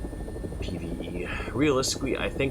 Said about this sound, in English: we have these 3 helicopters. They're gonna rush this convoy.